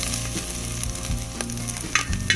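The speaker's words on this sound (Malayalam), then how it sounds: "ഇഞ്ചി ഇത് എന്നിട്ട് നല്ലപോലെ വഴറ്റി കൊടുക്കാം." Cardamom, cloves, garlic and ginger sizzle steadily in hot coconut oil for a chicken stew, with faint stirring clicks and scrapes in the pan, close and without voices.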